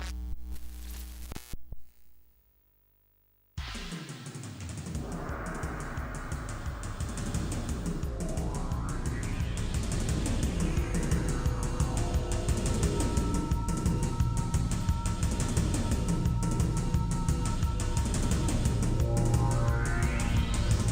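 Soundtrack music from a Korean DOS action mech video game, a dense synthesized score that stutters and drops out briefly near the start, then runs continuously with sweeping rising and falling tones over a steady beat.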